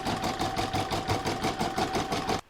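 An embroidery sewing machine stitches the outline of an acorn placemat, running as a steady, close, rhythmic mechanical whir with rapid needle pulses, then stopping abruptly at the end.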